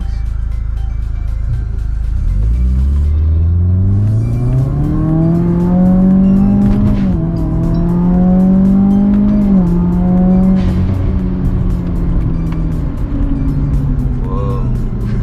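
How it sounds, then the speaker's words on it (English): Automatic Subaru WRX in Sport Sharp mode accelerating hard, loud engine pitch climbing through gears with brief dips at each shift where the blow-off valve releases, close and loud. "on the Sport Sharp, it blows off, the blow-off valve releases at every gear that you switch out slight release"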